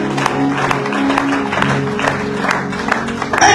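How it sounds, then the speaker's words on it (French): Church congregation clapping together at a sermon, a steady dense patter of hands under organ-like sustained tones, with a voice briefly heard near the end. "Acclamons le roi des rois."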